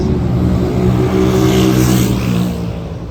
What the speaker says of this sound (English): Here comes the motorbikes.